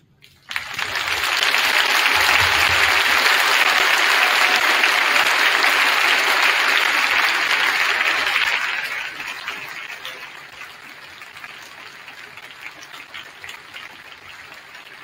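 A high school gym crowd applauds veterans and West Valley High School staff and faculty, loud sustained clapping for about eight seconds before tapering into scattered claps and room murmur.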